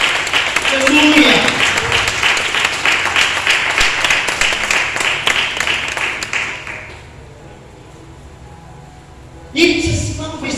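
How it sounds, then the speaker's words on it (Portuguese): A church congregation applauding together, dense steady clapping for about seven seconds that then dies away, followed by a brief loud sound at the end. "Você pode aplaudir Jesus?"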